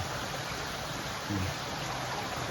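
Water flows steadily through a fish trap in a stream, producing a continuous broadband rush with no break, close and fairly loud, with no voices.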